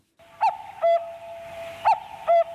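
A cuckoo call sound effect played on a Korean radio show sounds twice, each time as a clear, loud two-note 'cuck-oo' pair with a short hum between the pairs.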